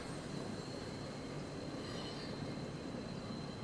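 Steady rolling rumble of railway coaches in a train simulator game with a Midland 200 Class unit, continuous wheel-on-rail noise and a thin high squeal running underneath, fairly close and even throughout with no talk.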